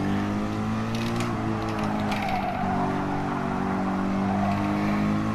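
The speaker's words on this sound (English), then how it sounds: "Using first gear a little bit there to help the car slow down and rotate." Porsche 911 engine in a racing video game revs hard through a downshift into first gear while braking for a corner, a steady loud mechanical drone with rising and falling pitch and no talk over it.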